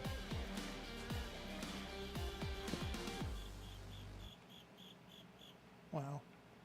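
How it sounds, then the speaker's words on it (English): A cricket chirps somewhere indoors, giving faint, high, evenly spaced pulses that repeat for the final seconds of the clip, following earlier busy game-like sounds. "there is a cricket in this room somewhere, and it's kind of annoying"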